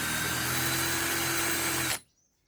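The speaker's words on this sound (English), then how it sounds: "So you find a spot and then you start drilling on the side" A power drill bores holes into the side of a pot, a steady loud whine that runs for about two seconds and then stops abruptly, leaving near silence.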